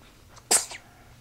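A single sharp human sneeze bursts out close and loud amid quiet room tone, followed by a softer trailing breath.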